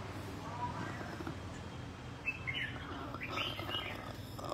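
An escaped caged songbird chirps outdoors in a yard, giving a few short, faint tweets midway through over steady low background noise.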